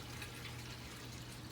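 Water streams steadily from aquaponics feed tubes down into the foliage, a constant soft hiss of trickling flow that stays even and quiet throughout with no other sounds.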